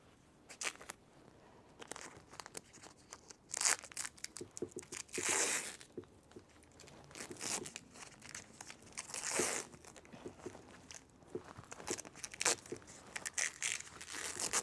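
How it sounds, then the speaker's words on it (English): Tape being torn and wrapped around a larch branch: close crinkling and crackling rips in irregular bursts, with quieter rustling between them and no talk. "I will tape it again."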